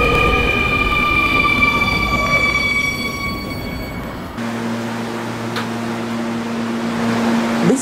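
An R220 subway train on the 7 express line in the Roblox video game hums and rolls along, with steady motor whines and tonal drones that shift midway to a lower, quieter running tone.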